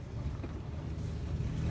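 A Jeanneau 379 sailboat engine revs in neutral, rumbling low and steady without changing pitch, with wind buffeting the microphone.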